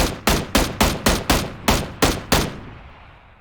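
A weapon fires in the video game PUBG, nine sharp shots in a fairly quick, slightly uneven rhythm, each echoing briefly before a final decaying tail.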